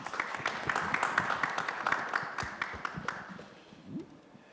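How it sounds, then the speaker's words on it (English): An audience claps, a scattered patter of hands that swells briefly, then thins out and fades, with a faint voice near the end. "So let's have an applause to welcome him here."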